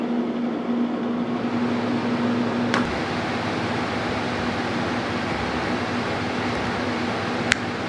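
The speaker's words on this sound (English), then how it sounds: "ventilation fan." A ventilation fan runs steadily in a workshop, a constant broadband whoosh with a low hum that holds evenly throughout, with a couple of faint clicks and no talking.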